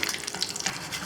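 Curry leaves fry in hot oil with a soft, steady sizzle and scattered faint crackles, close by, over about a second without talk.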